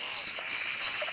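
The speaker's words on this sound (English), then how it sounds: "He looks like an emerald spotted tree frog." Southern emerald spotted tree frog (Litoria tyleri) calling steadily at close range, a continuous rasping chorus with no breaks and no voices.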